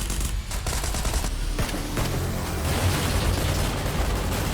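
Gunfire from a shooter video game sounds as a dense, loud fusillade of rapid shots and booming impacts over a few seconds, with no voice over it.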